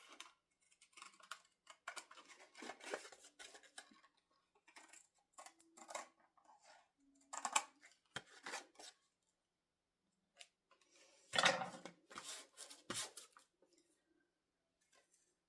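Scissors trim excess fabric from a handmade Christmas ornament, giving close, intermittent snips and crisp rustles in short bursts separated by brief pauses, with no talking.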